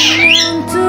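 A single short, harsh squawk from a pet pigeon, a close, loud bird cry with a gliding pitch lasting under a second.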